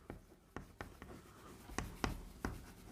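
Chalk or marker tapping and scratching on a classroom board, several short sharp strokes spaced irregularly over a quiet room hum, no talking.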